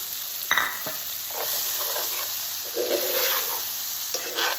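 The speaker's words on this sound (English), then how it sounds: "So I am going to add my butter and garlic mixture to the shrimp. And I'm just going to let it cook up for a few more minutes." Shrimp cooking in a pan with butter and garlic: a close, lively sizzle with stirring and scraping bursts and a few sharp clinks over a constant hiss.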